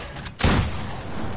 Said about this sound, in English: Who's using a rocket launcher?